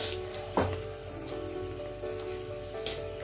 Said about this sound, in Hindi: अब ये ऑयल गर्म हो गया है तो अब मैं इसमें डाल करके इसको गोल्डन ब्राउन होने तक फ्राई कर दूँगी